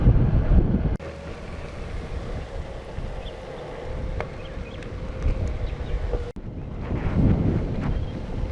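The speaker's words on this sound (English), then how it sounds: "A little bit windy right now." Gusty wind buffets the microphone in heavy low rumbles, strongest at the start and end, with a steady whistling drone in between.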